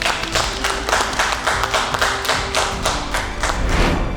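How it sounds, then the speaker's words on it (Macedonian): A studio audience applauding on a television reality show after an elimination, with rhythmic, fairly loud claps and thumps repeating at a steady pace over a low background hum. "Аплауз, Ана."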